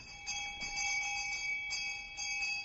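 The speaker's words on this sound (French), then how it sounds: "je fus réveillé en sursaut par une cloche agitée dans le salon" A hand bell rings in a living room, sounding as a run of bright metallic peals in several quick bursts, moderately loud and close, with no voices over it.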